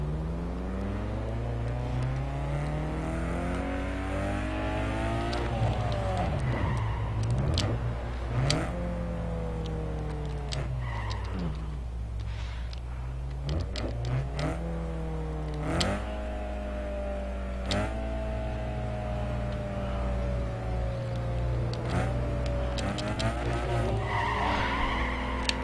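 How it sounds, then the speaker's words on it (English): A Mazda Miata of about 150 horsepower doing a burnout in Need for Speed Underground 2. The engine revs up and down in long sweeping pitches over a steady, sustained tire squeal, loud and continuous throughout. "That's how you burn out in a, I believe, 150-ish horsepower Miata."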